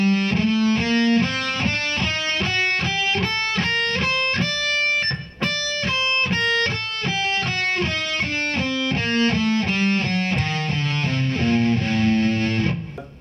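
Heavily distorted electric guitar runs up and down a Phrygian dominant scale, playing clear single notes in an even, steady stream, loud and alone without any talk.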